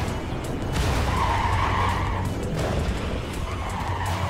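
Trucks skid and swerve in the video game Clustertruck, a continuous loud rumbling, scraping engine-and-tire noise that surges and eases throughout without pause.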